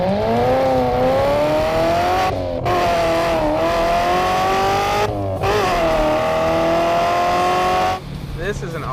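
A 2014 Lingenfelter C7 Corvette accelerates hard: a loud, close engine note climbs repeatedly, with brief dips at gear changes, and road noise runs underneath.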